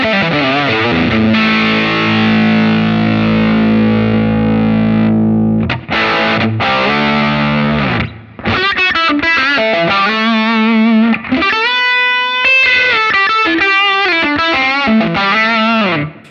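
An electric guitar with humbucker pickups plays through a Line 6 Helix Ventoux amp model, distorted and effects-laden, with long sustained chords and a pause, then busier rhythmic phrases and ringing notes, loud and alone.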